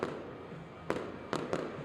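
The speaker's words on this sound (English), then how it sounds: "they think the fireworks show is going to last 8 minutes" Distant fireworks from an opening night celebration in Oklahoma City, heard as three sharp bursts over a steady low rumble, faint and far off.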